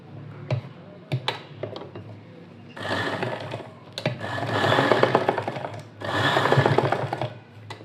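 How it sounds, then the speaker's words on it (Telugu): A sewing machine stitches fabric into rose petals for latkan decorations, running in steady bursts of whirring with brief ticking pauses and clicks between runs, close and moderately loud, with no talking. "చూడండి ఇలా పట్టుకొని స్టిచ్చింగ్ అనేది చేసుకోవాలి దీని మీద"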